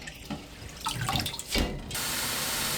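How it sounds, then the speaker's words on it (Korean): Tap water runs into a sink as hijiki seaweed is rinsed. Soft splashing and handling noises come first, then the faucet settles into a steady, even stream. "3-4회 깨끗한 물로 헹굽니다."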